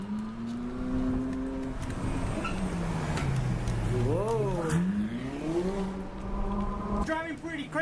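A car driven fast, its engine revving and pitching up and down in sweeping surges while it speeds along, heard up close from inside or nearby, with some talk at the end.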